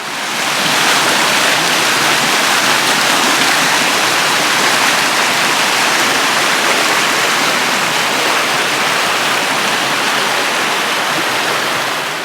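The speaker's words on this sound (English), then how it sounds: "This is where things get a little more mellow. The rapids die down a little." Creek rapids rush in a loud, steady, broadband roar of tumbling water, continuous and close for the whole stretch, with no voices.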